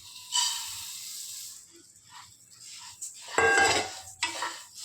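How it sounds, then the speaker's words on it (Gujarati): Whole coriander seeds are dry roasted in a pan without ghee, producing bursts of rattling, hissing scrapes as the seeds are tossed and stirred against the metal. The sound is close and fairly loud, comes in waves, and has no talk over it. "હવે આપણે આ ધાણા શેકી લેવાના છે, ઘી એડ નથી કરવાનું, એમ જ શેકવાના છે।"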